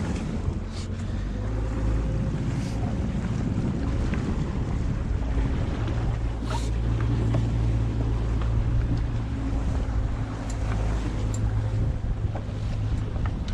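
A motorboat engine drones steadily on open sea water near a capsized boat, a low continuous hum under constant wind buffeting and wave wash, with no voices.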